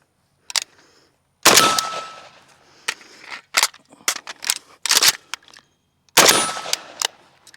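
An AK-47 magazine sweep reload: a quick series of loud, close metallic clacks, rattles and snaps in uneven bursts with short pauses between them, no voices.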